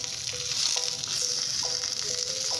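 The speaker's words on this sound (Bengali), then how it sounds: "টুকরো করে কেটে নেওয়া পনিরগুলো আমি একটু এপিট ওপিট ভেজে নেব।" Cut paneer pieces fry in oil in a kadai with a continuous close sizzle, and faint tonal sounds appear intermittently in the background.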